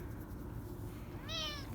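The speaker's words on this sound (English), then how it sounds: "He's a happy little kitty." A pet cat gives one short, faint meow near the end of a quiet stretch, heard over a steady low background hum.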